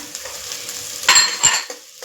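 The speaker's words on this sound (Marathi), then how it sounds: "आता हे चांगलं मंद आचेवर परतून घ्यायचंय।" Misal masala with onion-garlic spice masala is stirred as it sautés gently in a pan on a low flame, a soft sizzle with a couple of sharper scraping stirs of a spoon against the pan.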